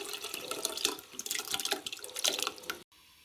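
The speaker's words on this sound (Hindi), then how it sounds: "अब मैं इसमें खुबानी शामिल करूंगी पानी समेत।" Dried apricots and water pour into a saucepan on a lit stove, giving a steady splashing, trickling wash of liquid for about three seconds before stopping abruptly.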